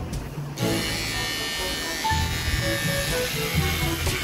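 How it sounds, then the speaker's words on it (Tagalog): A small electric shaver running on one AAA battery buzzes steadily and close up while shaving a head, its hum shifting in pitch as it moves across the scalp, with no talking. "This shaver is powered by 1 AAA battery."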